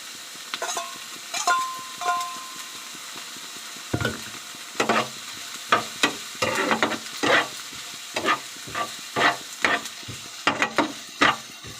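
Fish sizzles in a pan under repeated scraping and stirring knocks, a spatula clacking in an uneven rhythm close by.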